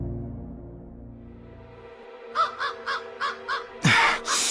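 A crow gives a run of about five hoarse caws at an even pace, then a louder, harsher caw close by, over a low droning tone.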